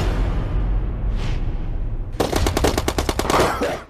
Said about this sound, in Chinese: 黄子韬就被突然响起的枪声吓到模糊